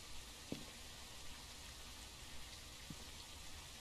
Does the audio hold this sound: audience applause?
no